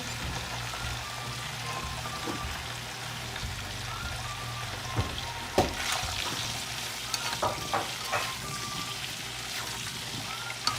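Potatoes sautéing in a pan over medium-high heat for aloo palak, giving a steady low sizzle with scattered scraping stir sounds and small pops, no talk.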